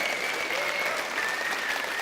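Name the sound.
audience applause at a presentation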